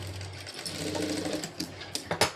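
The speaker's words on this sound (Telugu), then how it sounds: "దీనికి కూడా పైకుట్టు అయితే వేసుకోవాలి" A sewing machine top-stitching a seam on a front fabric panel, its steady motor whir running fast, with a few sharp clicks near the end.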